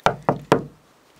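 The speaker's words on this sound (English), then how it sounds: "If I knock." Three sharp knocks on a door, evenly spaced and close, each ringing briefly before quiet follows.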